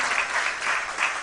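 A church congregation claps in praise, a dense, steady wash of many hands sounding together at close range with no voices over it.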